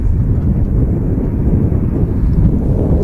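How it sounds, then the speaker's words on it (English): Gusting wind at Manchester Airport, a loud, low rumbling roar that buffets the microphone without pause, steady throughout. "the wind is gusting a little bit, Stephen."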